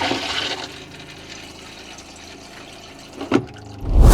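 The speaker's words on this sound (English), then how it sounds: "I'm going to flush the toilet." Toilet flushing inside a Roadtrek Zion camper van: a short rush of water at the start, a quiet trickle and refill, a brief clunk, then a loud surge of draining water at the end, close by with no talk.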